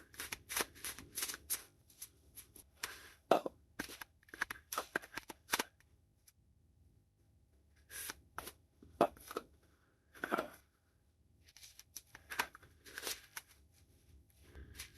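Tarot cards are shuffled and drawn, giving crisp riffling and flicking bursts with papery slaps and brief pauses, close by and fairly quiet, with no talking.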